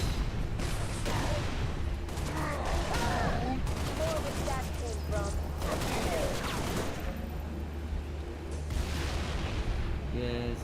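Gunfire in the video game Halo: Reach: dense, continuous bursts of shots and booms fill the whole stretch, loud and close, mixed with voices talking over the battle.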